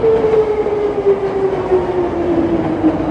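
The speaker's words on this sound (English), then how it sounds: "So here, we'll get the train coming by. Yeah, look at that purple line." Chicago L Purple Line elevated train rolling past on the overhead track near Franklin Street, a steady loud rumble with a sustained wheel squeal running throughout, close by and alone.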